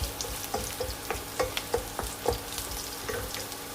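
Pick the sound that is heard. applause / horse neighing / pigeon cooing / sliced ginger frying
sliced ginger frying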